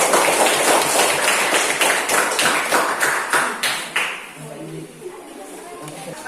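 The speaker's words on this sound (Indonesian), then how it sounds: "silakan tepuk tangan untuk penampilan." A classroom group claps for a student group presentation, a burst of rhythmic, fairly loud applause with strong claps in unison that fades out after about four seconds.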